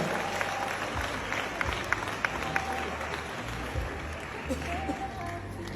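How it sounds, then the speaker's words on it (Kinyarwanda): Crowd applause for Chris Eazy at a wedding, a continuous spread of clapping from a large gathering, moderately loud and steady, with a few sharper claps popping out and voices murmuring underneath. "umukunda wese amumera amashyi menshi cyane"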